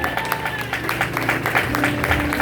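A church congregation claps in praise, a steady lively burst of hand applause over organ-like tones and voices.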